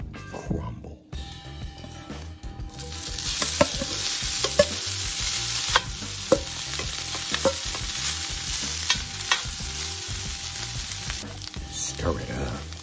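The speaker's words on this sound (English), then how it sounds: "Add the vegan ground crumbles." Vegan ground crumbles hit a hot pan and burst into a loud, sustained sizzle, with repeated scraping and knocking of a spoon as they are stirred close up.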